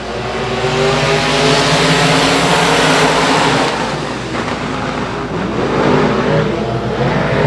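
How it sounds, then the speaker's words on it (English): Six race cars roar away together at a green-flag start of an eight-lap oval race, a loud sustained wall of engine noise with rising revs and no talk over it. "we're going into the green flags. 8 laps in distance, 6 cars. And we're underway under the gun as they head off into 1."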